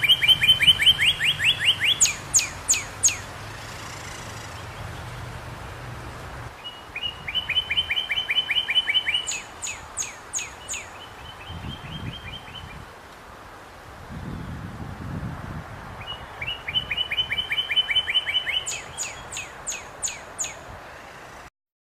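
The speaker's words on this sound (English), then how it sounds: "Because the cardinal has so many calls, it took me a while to recognize him." Northern cardinal in an aviary giving repeated bright, sharp call phrases in bursts, several series of quick metallic notes with pauses between, fairly close and clear over a low background hum.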